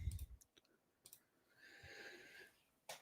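Quick bursts of typing on a computer keyboard, a few scattered clacks with short pauses between them, close and fairly quiet.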